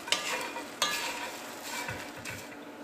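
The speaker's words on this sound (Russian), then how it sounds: "Когда сковородка уже сильно разогрелась, то сухарики начинаем мешать регулярно, чтобы они равномерно подсыхали" Croutons drying in a very hot frying pan and stirred regularly, a steady close sizzle with dry scraping sweeps and a couple of sharp clinks of the utensil against the pan.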